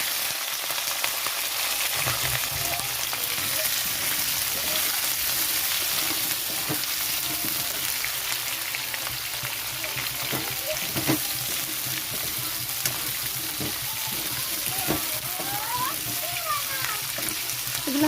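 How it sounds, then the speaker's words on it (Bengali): Capsicum and onion frying in hot oil for chilli chicken, a steady close sizzle with crackling pops and occasional stirring scrapes throughout. "তো এই তেলের মধ্যে আমি এখন দিয়ে দিচ্ছি ক্যাপসিকাম আর পেঁয়াজ।"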